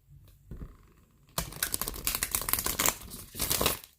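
A quick flurry of crisp, riffling shuffles of a sturdy oracle card deck with papery crackles, close up and alone, following a softer brief shuffle.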